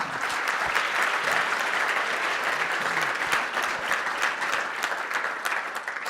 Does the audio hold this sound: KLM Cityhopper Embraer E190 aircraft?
no